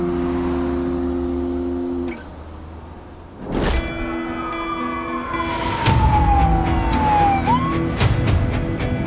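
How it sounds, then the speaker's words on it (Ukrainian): Ambulance siren in the city streets of Dnipropetrovsk region, Ukraine, in wartime: a single long, falling siren glide rises out of steady traffic rumble, with sharp passing noises around it and no talk. "Дуже багато швидких по місту."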